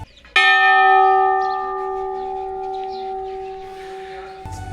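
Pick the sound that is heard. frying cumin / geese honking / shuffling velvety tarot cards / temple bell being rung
temple bell being rung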